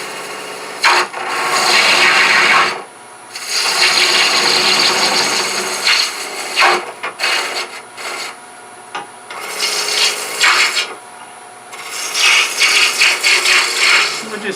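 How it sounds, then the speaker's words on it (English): A spindle gouge makes a peeling cut on spinning wood on a lathe, shaping a miniature Christmas tree. The loud, close, rasping shave comes in long sustained passes broken by brief pauses, with no voice over it. "this is why we use a spindle gouge, where we sharpen it straight across. We can come in and take advantage of a peeling cut."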